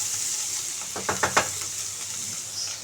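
Bitter gourd curry cooks in oil with a constant soft sizzle, broken by a few quick scraping stirs of a spoon in the pan near the middle. A voice says one short word.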